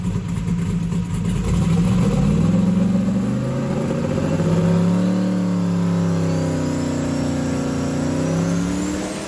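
A 2000+ horsepower twin-turbo LS engine revs hard on an engine dyno, a loud continuous roar rising and sweeping in pitch with turbo whine over the full length.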